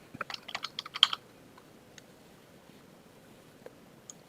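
Quick bursts of keystrokes on a computer keyboard during a live market-review stream, a rapid cluster of light clicks at first, then a few scattered taps in a quiet room.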